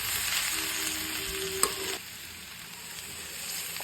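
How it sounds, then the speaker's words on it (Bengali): Ivy gourd and potato pieces fry in a pan with a steady oily sizzle, a brief clatter of stirring midway, then the sizzling settles slightly quieter. "এবারে দেখে নিই কুঁদরি আলু ভাজা হয়ে গেছে নাকি।"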